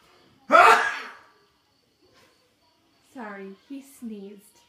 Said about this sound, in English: Sorry, he sneezed.